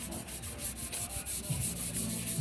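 Continuous rubbing of sandpaper on the bodywork of a Coaster bus to smooth it, a loud rhythmic back-and-forth hiss of abrasive strokes at close range, with no talking.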